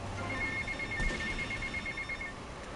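A phone ringing in the video game GTA Vice City, heard as a steady electronic trill repeating over a busy game background.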